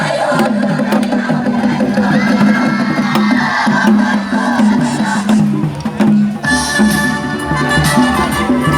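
A red-themed cheering squad in elaborate costumes cheers at the edge of a sports field during a sports event, a loud, continuous crowd roar with shouting voices and rhythmic chanting throughout, swelling brighter near the end.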